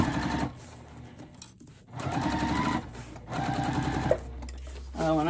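A sewing machine runs over the side seams of a car trash bag in three short bursts of fast, even whirring with brief pauses between them, fairly close and loud.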